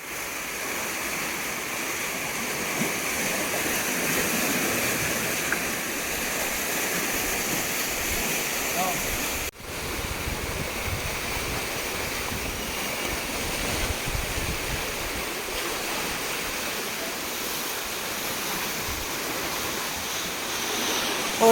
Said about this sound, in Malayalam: പുഴയിൽ വെള്ളമൊക്കെ കുറവാണെങ്കിലും കനാലിലൊക്കെ നിറച്ച് വെള്ളമുണ്ട്